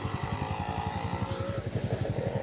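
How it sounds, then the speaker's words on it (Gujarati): A Bullet motorcycle engine thumping in a steady, heavy rhythm as it passes close by, loud and continuous. "આ કાકા બુલેટ લઈને બાઈક આવ્યો"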